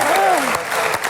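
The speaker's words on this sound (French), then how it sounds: "On peut l'applaudir très fort" A TV show audience claps loudly and continuously, with a voice speaking over the start of the applause.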